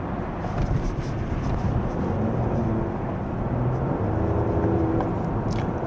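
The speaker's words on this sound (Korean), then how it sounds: "자 이게 지금 컴포트 모드에서의 배기음이고" A Mercedes-Benz GLE Coupe 53 AMG's exhaust in comfort mode drones steadily at a low, smooth idle, continuous and fairly loud, with faint talking in the background.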